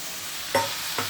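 Shrimp drop into a hot pan of curry with vegetables and sizzle, with two quick stirring scrapes in a short, close burst of frying noise.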